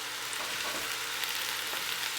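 Ground pork and veal browning in a hot frying pan give a dense, steady sizzle, close and continuous, with faint crackles and no voices.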